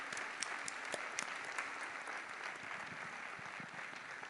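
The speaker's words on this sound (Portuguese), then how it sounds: "Vamos bater uma salva de palmas ao Senhor" A church congregation applauding during a worship service, a steady wash of clapping hands that holds at an even level throughout, fairly soft and distant.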